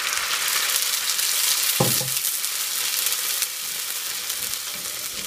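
A takeaway-style Madras curry sizzles steadily in a pan as tomato puree mixed with water cooks into golden-brown onions over medium gas. A single short stir or clank of a utensil cuts through the constant frying hiss.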